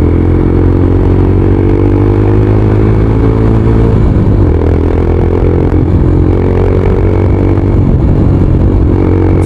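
A second-hand SZ16 motorcycle engine runs loud and close, droning steadily with a throttle blip partway through that lifts the pitch before settling back.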